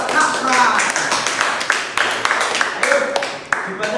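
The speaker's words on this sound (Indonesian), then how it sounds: "Baik, beri tepuk tangan buat Mas Pran." A small group claps for Mas Pran in a lesson on the drafting of Pancasila, giving a ragged, uneven patter of hand claps with a voice talking over it.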